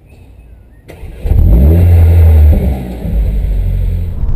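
A Mercedes-Benz CLA 45 AMG with a 2-litre turbocharged four-cylinder petrol engine of 360 hp fires up after a brief click, rising into a loud close rev and then settling into a steady, rumbling idle.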